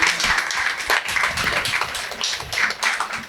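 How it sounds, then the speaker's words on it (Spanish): An audience on a sailing talk show claps steadily for a guest, a dense, even burst of applause at moderate loudness from start to finish. "Un aplauso"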